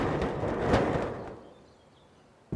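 A broad, rumbling rattle swells and then slowly fades away, like a shaken metal sheet imitating thunder, followed by near silence.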